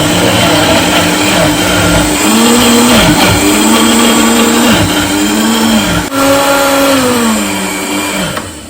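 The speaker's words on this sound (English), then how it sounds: "So let's blend all the vegetables together." A loud, steady motorized whirring with shifting pitch runs continuously as a blender churns cooked vegetables at high speed.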